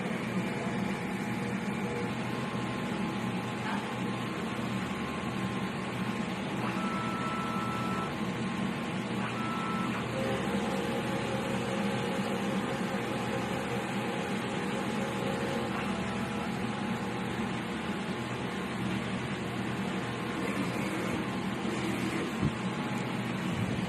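A DTF printer runs a nozzle check with a steady mechanical whir and faint tonal whines from its moving parts, a continuous low-level machine hum throughout, with no one speaking.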